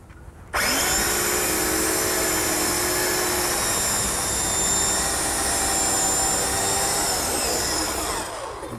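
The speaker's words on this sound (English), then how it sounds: "we use a standard electric chainsaw. That cuts through this with no problem?" A standard electric chainsaw starts abruptly and cuts steadily through material for about eight seconds, a loud continuous high-pitched whine with a sustained motor tone and no talk over it.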